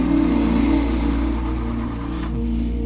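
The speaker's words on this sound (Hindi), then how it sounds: "भाई गाड़ी स्टार्ट होगी कि नहीं?" A car engine that has cut out in a remote jungle spot turns over and hums at a steady low drone, loud and close, with no talk.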